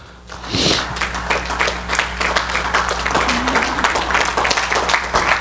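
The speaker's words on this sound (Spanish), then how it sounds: "Y me den un aplauso al Señor." A church congregation applauds at the end of a pastor's sermon, a sustained wash of many hands clapping, fairly loud and close, with a brief voice rising partway through.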